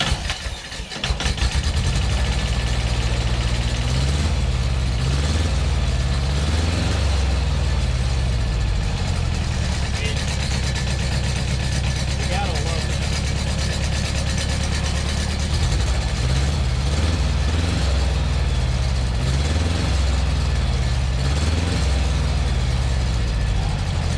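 An old 1980s farm tractor engine cranks and catches within the first second or two, then settles into a steady, loud, low idle that rumbles on close by for the rest of the stretch.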